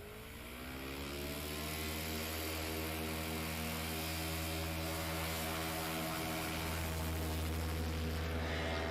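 A 2019 Cub Crafters light aircraft at a STOL competition runs its propeller engine, a loud, steady, harmonic drone that builds in the first second and then holds close and continuous.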